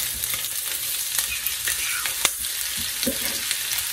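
Pieces of smoked sausage sizzle and brown in olive oil in a pan, a steady loud frying hiss with occasional stirring scrapes and pops nearby.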